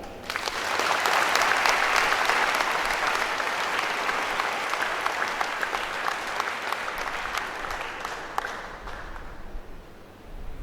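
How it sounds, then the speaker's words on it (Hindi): A large audience of students at an engineering institute's induction program applauds loudly, with dense, sustained clapping that holds for about ten seconds before fading out. "एक बार मैं चाहता हूँ कि मेरे बच्चे अपनी उस सक्सेस के लिए जोर से ताली बजाएं"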